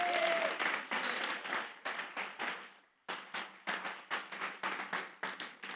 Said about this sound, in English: let's give one more applause for Julia, our event coordinator.